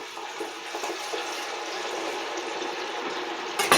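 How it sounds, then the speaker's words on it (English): Hot frying oil crackles and pops steadily as wet potatoes cook for fish and chips, a dense, continuous close sizzle that flares briefly at the end, with no talking. "You hear all that popping? That's water that's still in there."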